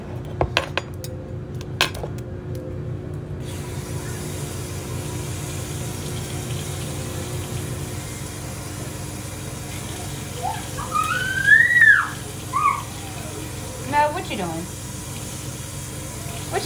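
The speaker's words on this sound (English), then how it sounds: "Alright, so now I rinse that out, putting the black beans in there." Canned black beans are rinsed under a running kitchen tap, giving a steady, even rush of water with a few metal clinks near the start and brief clattering toward the end.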